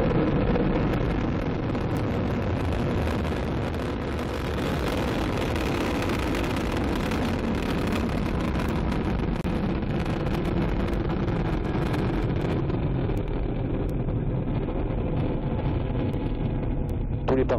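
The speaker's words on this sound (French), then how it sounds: "Allumage EAP, décollage." An Ariane 5 rocket lifts off from Kourou on an overcast evening, its engines producing a continuous, heavy, broadband roar that stays loud and steady throughout, with a wind-like rumbling texture and no talk over it.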